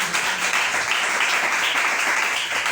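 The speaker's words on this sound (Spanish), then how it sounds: "¿Cuánto le damos un fuerte aplauso al Señor?" Church congregation giving a strong round of applause during a Spanish-language sermon, loud, dense clapping that runs steadily throughout with no talk over it.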